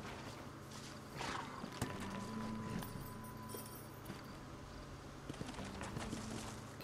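Hooves from a ridden horse in Red Dead Redemption clop in an uneven rhythm, blended with outdoor game ambience including bird calls and a sustained mechanical hum.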